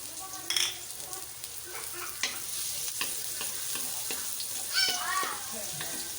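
Garlic fries in hot oil in a large wok-style pan for chicken curry, a steady close sizzle with scattered stirring scrapes and clinks, plus brief faint voice-like sounds in the background.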